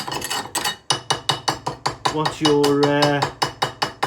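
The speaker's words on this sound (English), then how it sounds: "I've just welded it, so I'm just peening it." A hammer peens a freshly welded nickel cast weld, striking in a steady run of sharp metallic blows with a brief ringing tone in the middle; someone says a few words near the start.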